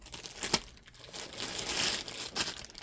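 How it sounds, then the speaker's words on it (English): A plastic sleeve is pulled off the packaging of a Daisy Red Ryder lever-action BB gun, giving soft, close crinkling and rustling with a few sharper crackles. "Pull the plastic sleeve."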